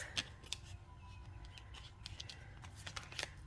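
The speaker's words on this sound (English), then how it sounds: "let me give it a better shuffle here" Soft, quiet tarot card shuffling with scattered light snaps and flicks of cards riffling close by, no voices.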